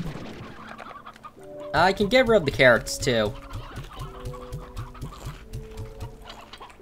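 Hens cluck in the video game Slime Rancher, a steady run of short clucks with tonal game sounds around them and a burst of loud talk in the middle.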